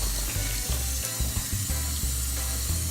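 Cold water runs from a kitchen tap to wash cabbage, a close, steady rushing splash that fills the whole moment without a break.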